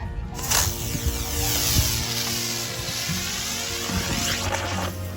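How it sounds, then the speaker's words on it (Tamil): A whirring, whooshing spin with sweeping tonal swirls, loud and steady throughout, as a Diwali helicopter firecracker spins close by. "வாவ் சூப்பரா இருக்கல்ல ஹெலிகாப்டர் சவுண்டே வருது"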